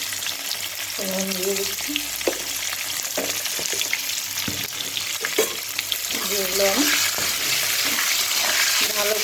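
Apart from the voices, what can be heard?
frying pointed gourd (potol) with salt and turmeric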